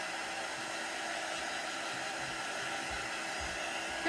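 A hair dryer blows steadily on a painted craft popsicle, a continuous even whoosh of air at close range with no voices.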